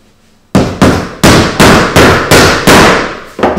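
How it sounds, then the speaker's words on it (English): Nails being hammered to fix roof trim down to a deck: seven sharp, evenly spaced loud blows at a steady rhythm, close up and alone. "Just fix it down using standard cult nails."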